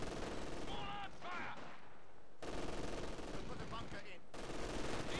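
MG42 machine gun fire in Company of Heroes 2, a dense, continuous rattle of rapid bursts with short pauses between, loud and close throughout.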